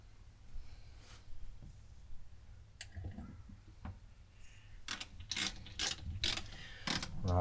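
A screw is tightened by hand into a motorhome gas regulator, giving a scatter of small ratcheting clicks and metallic ticks, with denser, louder clicking toward the end over a low background hum.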